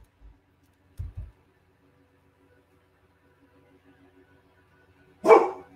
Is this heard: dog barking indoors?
yes